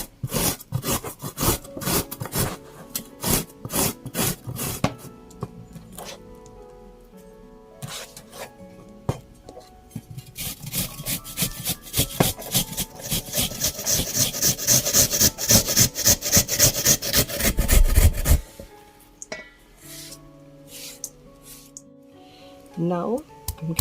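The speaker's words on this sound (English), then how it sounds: "For the carrot, I'm going to grate it coarsely." A carrot is coarsely grated for vegetable fritters, making quick rhythmic rasping strokes against the grater that speed up into a dense, scraping run before stopping abruptly.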